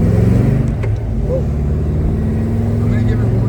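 An old car with roughly 30-year-old tires runs close by, its engine holding a loud, steady, throbbing rumble with slight rises in revs throughout.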